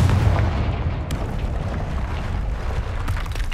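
A Confringo blasting spell goes off in Hogwarts Legacy, giving a loud, dense rumbling boom that fills the whole stretch with low-end roar and crackling debris.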